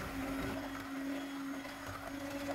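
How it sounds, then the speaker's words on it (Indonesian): An electric mixer beating eggs, sugar and vanilla essence for a marble cake, a steady motor whir with a constant hum, moderately close and running alone without talk. "mixer dengan kecepatan rendah, kemudian dinaikkan sampai kecepatan tinggi."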